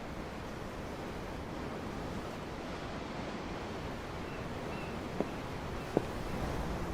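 Ocean waves in the video game Tales of Arise make a steady, soft wash of surf and wind, even and unbroken, with a couple of faint clicks near the end and no speech.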